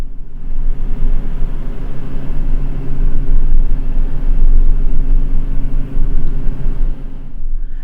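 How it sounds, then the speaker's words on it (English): Heavy truck traffic on a downtown Vancouver street corner produces a loud, continuous low rumble that swells and eases as vehicles pass, with no voices. "I can't wait for all of these trucks to be completely electric."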